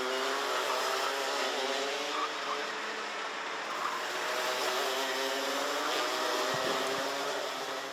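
Junior karts race through a Genk Euro Trophy heat, engines whining together in a continuous, buzzing drone that shifts in pitch as the pack passes at a moderate distance.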